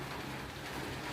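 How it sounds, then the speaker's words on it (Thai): Steady rain falls outdoors, a dense, even hiss of drops hitting surfaces that continues unbroken and fairly loud throughout, with no voices. "ฝนตกได้ค่ะนี่ ตอนนี้"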